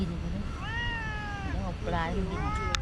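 A cat meows several times outdoors at night near Bhumibol Dam in Tak province, Thailand, with drawn-out, wavering cries close by, over steady background hum and someone talking.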